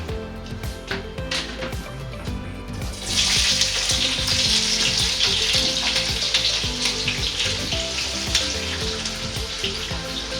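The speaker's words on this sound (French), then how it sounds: "Maintenant, je vais griller tous les épices pour notre légume vert." Spices for a green vegetable dish are fried in a pan, with a broad, steady sizzle that swells loud after a few seconds and continues, along with scattered clinks and knocks nearby, and no talking.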